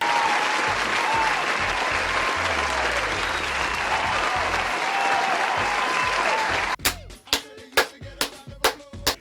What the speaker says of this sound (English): Put your hands together, give them a clap.